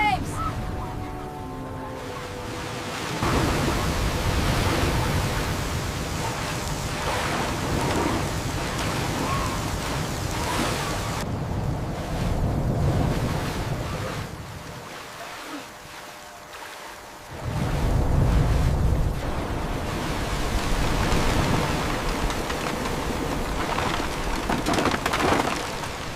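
Heavy ocean waves and wind lash a flooded Philippine coast during a typhoon, a loud continuous roar of surf and gusts that surges and briefly drops away midway.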